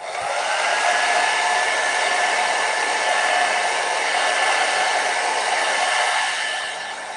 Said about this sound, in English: you can use a blow dryer or a heat gun